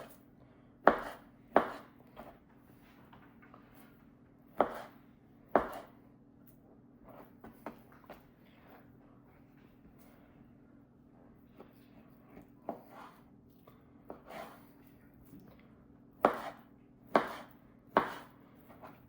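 A Swisstech Stählern AUS8 steel knife cuts raw meat into cubes on a board, giving scattered sharp chopping knocks, some in quick pairs and clusters, with quieter cutting between them and no talk.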